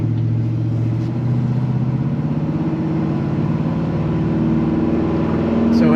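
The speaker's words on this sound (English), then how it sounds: "So the truck starts, runs, performs just like you would expect an LS to perform." A 1972 GMC 1500 truck with an LS V8 engine cruises along, a loud steady engine drone with a low rumbling note that rises slightly in pitch toward the end.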